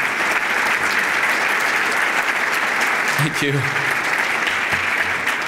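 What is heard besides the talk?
audience applause at business luncheon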